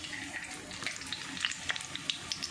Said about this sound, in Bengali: তো আমার তেল এখানে গরম হয়ে এসেছে, এবারে আমি ফোড়নে দিয়ে দিব গোটা জিরে পরিমাণ মতো।